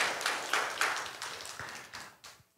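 A church congregation claps together in rhythmic bursts of applause. The hand claps come in a steady beat of loud, near strikes that fade toward the end.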